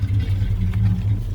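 A 1965 Ford Falcon Ranchero running close by, its engine a low, steady, slightly lumpy rumble over a short burst without any talking.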